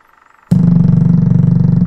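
A phone vibrating in the Life Is Strange video game, a loud buzzing drone that starts abruptly after a quiet moment and holds with a fast pulsing flutter until the clip ends, no voices.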